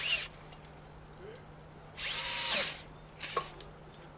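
A power drill bores into a living tree to fix a treehouse, heard in two short whirring bursts, the longer one in the middle, at moderate distance over quiet background hum.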